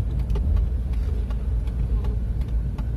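A Wuling car pulling away, its engine a steady low rumble with road and cabin noise throughout, fairly loud and close from inside the vehicle, with no talking.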